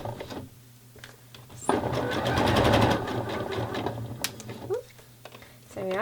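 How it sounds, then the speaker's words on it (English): Sewing machine running a straight seam on a wrap-around bra, a steady whirring burst of about two seconds, with pins on the fabric, under and between a woman's speech. "straight down that seam, nice and simple, straight seam, very simple to sew"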